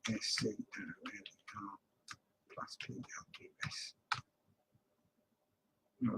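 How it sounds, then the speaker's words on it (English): Light typing on a computer keyboard, soft scattered clicks heard mostly after a stretch of quiet talking, faint and close in an otherwise silent room. "Just typing this just so you can see what else it can do."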